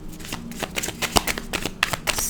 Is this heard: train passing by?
no